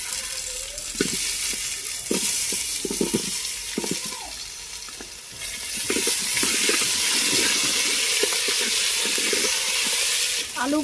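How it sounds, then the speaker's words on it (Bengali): Potatoes frying in oil in a pot over a village-style cooking fire, a steady broadband sizzle that swells louder midway, with intermittent stirring clatter and knocks from a utensil throughout. "এবার আলুগুলোকে ভেজে নেব।"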